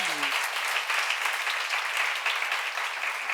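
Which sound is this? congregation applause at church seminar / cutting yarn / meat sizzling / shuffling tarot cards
congregation applause at church seminar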